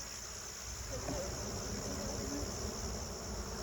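Honey bees buzzing around an open hive being worked make a dense, continuous droning hum that fills the scene at moderate level with no break.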